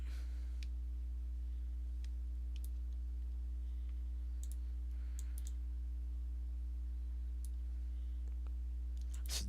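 Sparse, faint mouse clicks tick over a steady low electrical hum, a few isolated clicks spaced irregularly with a cluster near the end.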